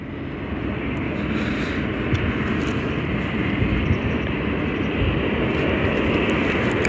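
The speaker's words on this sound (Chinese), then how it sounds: "后方来了一架落地进港的一架大宽体客机来了" A wide-body passenger jet lands at Guangzhou airport, a China Southern flight from London Heathrow, making a steady, loud roar of engine noise that holds constant and close throughout.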